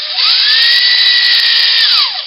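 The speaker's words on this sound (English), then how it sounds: "I'm going to try to drill this hole and come out the bottom in the middle." Power drill boring a hole through a wooden leeboard for a boat, a loud steady whine that rises as the bit spins up, holds for about two seconds and winds down, alone with no talking.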